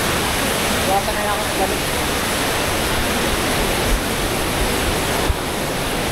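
Strong, rushing water of Marilag Falls in Santa Maria, Laguna pours in a steady, broadband roar close by, with a person talking over it.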